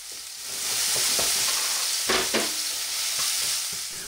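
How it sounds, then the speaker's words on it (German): Onions frying in a pan, a steady loud sizzle with occasional stirring scrapes, no talking. "in der Pfanne nehmen wir jetzt dann die Zwiebeln und die braten wir jetzt auch kurz an"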